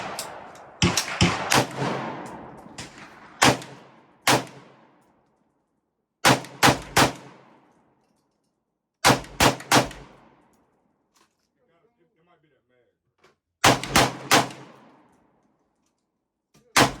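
Gunshots at a shooting range ring out in sharp bursts of two to five rapid reports, separated by pauses of a few seconds, loud and close with short decaying echoes.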